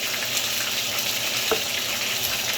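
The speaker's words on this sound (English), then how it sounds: "Pour that in and immediately stir it." Bourbon chicken sauce pouring into a hot pan, a steady hissing sizzle with a brief clink partway through.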